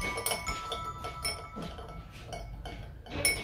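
A wooden chopstick stirring sugar solution in a glass, producing light repeated clinks and taps against the glass in an uneven rhythm, faint and close, ending with a brighter ring.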